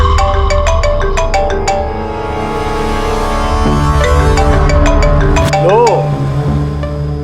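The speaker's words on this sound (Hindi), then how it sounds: "आ गया सीआईडी वालों का फोन।" A telephone ringtone plays loudly as an incoming call arrives, a melodic electronic tone sequence set over background music with sustained tones throughout.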